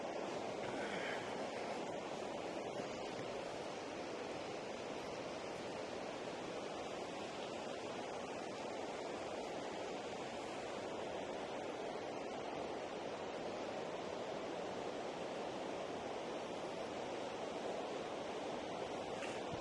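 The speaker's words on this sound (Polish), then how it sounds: "Taki mały wodospadzik," Small waterfall along a levada in Madeira's laurel forest near 25 Fontes, heard as a steady, broadband rush of falling water that holds evenly throughout with no voices.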